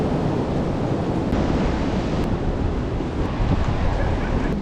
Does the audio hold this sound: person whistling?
no